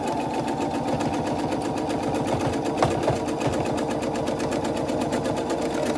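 Sewing machine stitching across the bottom of a zipper pouch: a steady, fast, even mechanical whirr with rhythmic needle clatter, close and continuous, with a small bump midway.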